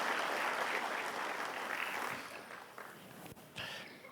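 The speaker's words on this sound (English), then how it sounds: "So big round of applause, many of them sitting here." Applause from a seated audience at a conversation event, dense clapping that starts strong, fades over a few seconds, then briefly swells again before tapering off; fairly faint.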